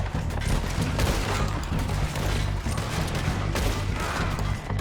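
A dense, continuous burst of gunfire rattles through a shootout in Red Dead Redemption 2 with cabins nearby, many overlapping loud shots and cracks forming a nearly unbroken fusillade.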